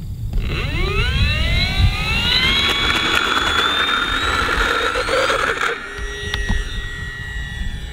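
An E-flite RV-7 1.1m electric RC model airplane takes off with flaps set, its motor whine rising steeply in pitch, loud and close, then easing and steadying as the plane climbs away.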